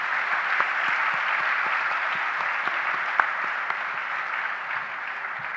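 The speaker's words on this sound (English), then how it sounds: "a big round of applause." Dense, steady applause from a large audience honoring scholars at a silver jubilee scholarship celebration, sustained at even loudness throughout with no voices over it.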